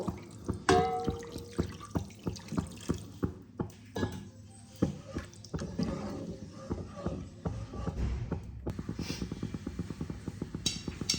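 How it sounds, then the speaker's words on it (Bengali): Water is added a little at a time to spiced mustard oil in a pan while cooking Bengali tel koi, giving close splashes, drips and sizzling pops with utensil clatter, moderately quiet throughout. "এই পর্যায়ে আমি জল দিয়ে দেব। অল্প করে জল দেব।"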